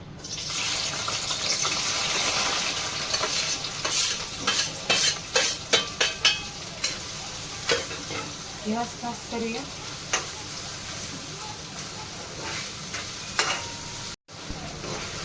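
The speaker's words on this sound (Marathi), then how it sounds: "कढईमध्ये मी तेल टाकलं आणि तेल गरम पण झाले तर त्यामध्ये आपल्याला दोन कांदे असे कापून टाकायचे" Hot oil sizzles steadily as two chopped onions fry in a kadhai for baingan bharta, with a spoon stirring and scraping the pan in quick bursts, then a softer, continuous crackle.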